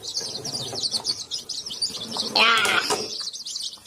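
Newly hatched chicks peep in a continuous high, rapid chatter, close and fairly loud, with a brief louder burst of calls near the middle and a short spoken word.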